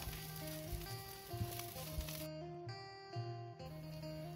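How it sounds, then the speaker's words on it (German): Garlic fries in hot vegetable oil in a pan, giving a soft, steady, low-level sizzle that carries on without pause and without talk. "Pflanzliches Öl in einer Pfanne erhitzen. Den Knoblauch hinzufügen und anbraten,"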